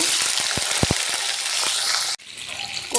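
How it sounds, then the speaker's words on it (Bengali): Cauliflower frying in hot oil in a wok, a loud continuous sizzling hiss that cuts off abruptly and falls to a quieter, gentler bubbling. "কপি ভেজে নেব"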